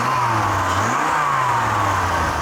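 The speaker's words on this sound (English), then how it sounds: "The not so raw of the Dodge Viper V10." A Dodge Viper V10 engine with a stock exhaust, heard at a classic motor racing event, rumbles loudly and steadily up close, rising briefly in a short blip of revs before settling back, with no talking.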